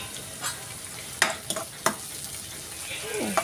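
Masala sizzles softly in oil in a pan for cashew curry while a spoon stirs it, with several sharp scraping clinks over a low, steady frying hiss, heard close.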